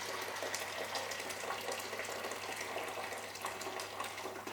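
Steady rushing water pours continuously into a cooking pot, a constant hiss and splash with no pauses or voices.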